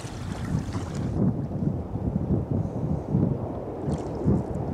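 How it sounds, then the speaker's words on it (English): Steady wind on an open Welsh sea coast near Cemaes Head, heard from a kayak: a continuous broadband roar and buffeting against the microphone, with waves faintly washing underneath. "That wind's going up now."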